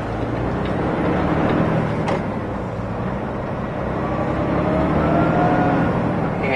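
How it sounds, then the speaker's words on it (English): A PACCAR-powertrain truck climbs a hill in a steady, loud cab drone of engine and drivetrain, with faint changes in pitch as the transmission shifts. "It was going to do a 7th to 9th gear skip shift, but it sensed that we slipped, so it went back to 8th gear"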